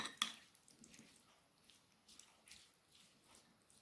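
Bruschetta topping being mixed with oil and a pinch of salt, faint close wet squishing and light clicks of a spoon in a bowl, soft and intermittent.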